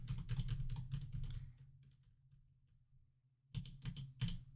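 Computer keyboard keys clatter in quick, close bursts of typing during a gaming session, with a quiet pause in the middle before the rapid tapping resumes.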